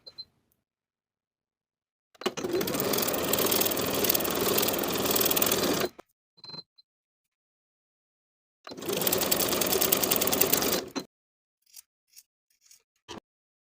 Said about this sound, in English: Sew both shoulder seams with a 3/8 inch seam allowance and a narrow zigzag stitch